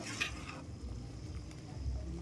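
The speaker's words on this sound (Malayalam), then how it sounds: "ഇനി നല്ലോണം ഇളക്കി കൊടുക്കുക." A pot of jackfruit payasam with cooked sago being stirred steadily, soft scraping and thick liquid sloshing close by, low and continuous with faint clinks of the spoon against the pot.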